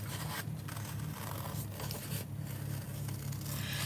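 Scissors fussy cutting around a paper piece for a handmade album with a spine, giving a steady, close scratchy snipping texture with a few brief pauses, over a low electrical hum and no talking.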